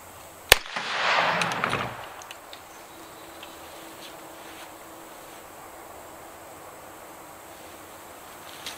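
A single sharp gunshot cracks close by at a looped PVC pipe target, followed by a brief rushing burst of debris and air, then near silence.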